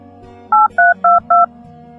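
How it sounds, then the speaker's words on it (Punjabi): A telephone number is dialed, four crisp keypad tones in quick, even succession, each a short steady two-pitch beep, loud and close against a quiet background hum. "ਨੂਰੀ ਨੂੰ ਫੋਨ ਕਰਨਾ, ਕਿੱਥੇ ਆ ਭਲਾ?"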